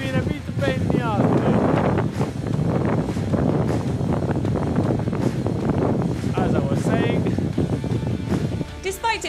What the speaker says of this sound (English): The wind has been a bit of a pain in the ass.